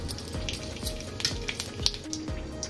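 Cumin seeds fry in hot oil in a kadhai, giving a close, steady crackling sizzle with small popping bursts and no talk.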